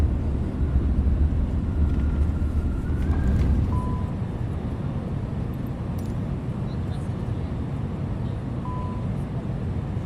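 A FlyByWire Airbus A320neo engine in Swiss livery after landing in Microsoft Flight Simulator, heard from the engine camera, gives a steady broadband roar that eases slightly after a few seconds, with faint thin tones above it.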